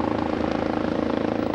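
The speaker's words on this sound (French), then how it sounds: "L'hélicoptère reprend l'air." A helicopter lifts off again over a river during a rescue exercise, its rotor and engine a loud, steady, rhythmic thudding drone throughout.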